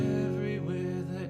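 One sustained, ringing chord on an acoustic guitar from a walk-down progression, close and steady with no talk.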